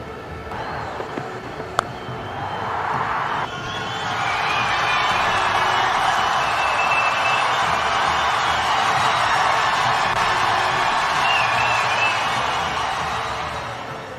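Crowd cheering at an IPL cricket match in Dharamsala swells after boundaries, a broad sustained roar that rises around four seconds in and holds loud throughout, with a few sharp shouts and a clap early on.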